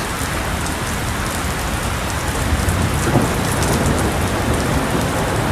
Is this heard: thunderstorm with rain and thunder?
yes